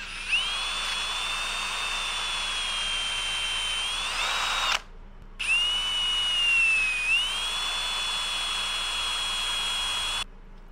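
A high-pitched power drill whines steadily as it bores a hole to fit a Mora knife blade, in two long runs separated by a brief pause.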